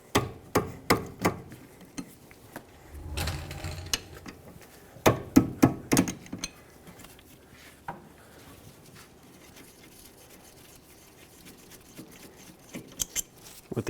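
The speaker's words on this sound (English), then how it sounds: "Now use a 14mm wrench or socket and remove the 2 bolts that hold the caliper onto the bracket." A 14mm wrench works on the rear brake caliper bolts of a 2013-2018 Hyundai Santa Fe. A quick series of sharp metallic clicks opens the clip, later clusters of knocks and rattles follow, and quieter stretches sit between them.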